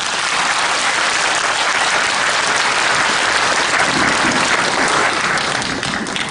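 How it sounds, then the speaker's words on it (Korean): Sustained, loud applause from a church congregation welcoming a speaker at a revival meeting, a dense, even wash of clapping that tapers slightly at the end, with no talk. "우리 박수로 환영하겠습니다"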